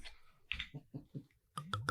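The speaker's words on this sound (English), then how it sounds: "You almost shattered my eardrum there with that screw cap." Screw cap twisted open on a bottle of organic Sauvignon Blanc, a few sharp close clicks and cracks in quick succession, loud and near, with no talk.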